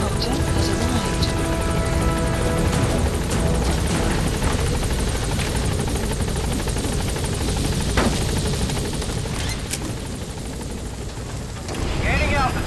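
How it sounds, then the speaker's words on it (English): A support helicopter from the video game Metal Gear Solid V arriving, its loud, steady rotor roar filling the scene throughout with a brief lull near the end, while radio voices talk over it. "Support helicopter has arrived."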